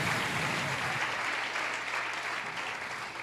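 Congregation applauding in a church service, a sustained dense wash of clapping that stays loud and steady throughout with no voices on top.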